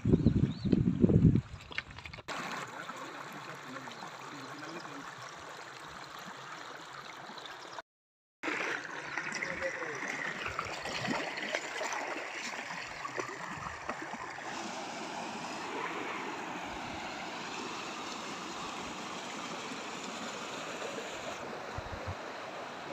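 A river flowing through wild countryside, a steady broad wash of moving water that holds evenly throughout after a brief rustle at the start, with one short dropout partway through.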